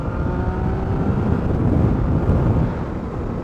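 A 2018 Yamaha Tracer 900 GT motorcycle accelerating hard through quick-shifted gears, a loud, steady engine roar with heavy wind rush over the rider's microphone and no break in the power.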